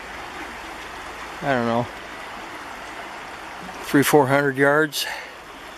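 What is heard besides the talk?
river stream flowing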